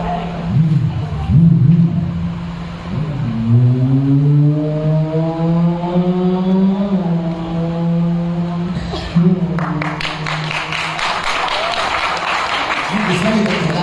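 A mimicry performer at an inter-university college event imitates a motorbike riding off with his voice, a rising, revving engine whine that climbs and fades over several seconds, followed by audience applause.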